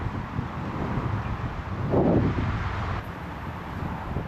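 Wind blowing steadily across the seaside near a breakwater lighthouse, a constant rushing roar buffeting the microphone and swelling briefly midway, with no voices.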